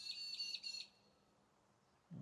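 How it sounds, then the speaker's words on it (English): Two small peewee birds call in quick repeated high whistled notes, clear and fairly close, then fall quiet into soft outdoor ambience. "These beautiful little pair of peewees, they nest in this tree every year."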